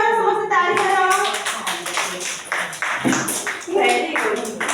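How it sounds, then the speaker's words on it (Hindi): Young children clap their hands together in a classroom during a rhyme lesson, the claps bursting in uneven clusters through the clip and mixed with chattering kids' voices. "ताली मारो समस्त ताली मारो"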